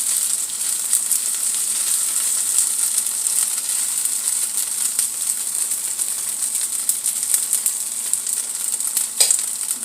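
Food browns in a frying pan with a close, continuous, crackling sizzle and hiss that holds steady throughout, with no voices.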